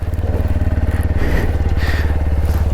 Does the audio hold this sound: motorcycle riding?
yes